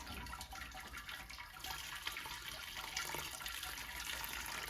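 Water running steadily through the grain mash while sparging a London porter homebrew, a constant quiet hiss and trickle with no talk.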